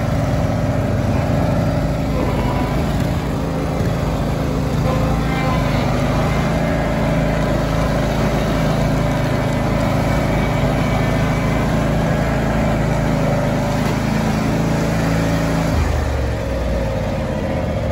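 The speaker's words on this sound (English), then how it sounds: "Engine idles good. 706 hours on the Kawasaki engine." A John Deere X300 lawn tractor with a Kawasaki engine of 706 hours idles steadily close by, a continuous mid-pitched engine drone that holds even for the whole stretch and eases slightly near the end, with no talking.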